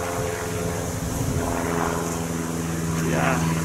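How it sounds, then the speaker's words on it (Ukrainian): A honeybee swarm at a hive makes a dense, continuous, droning hum that stays loud and close throughout, with a rich, steady buzzing tone and no pauses. "Тут рій, працює"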